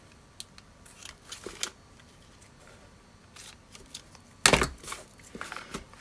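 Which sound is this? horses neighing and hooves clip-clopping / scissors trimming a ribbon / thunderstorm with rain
scissors trimming a ribbon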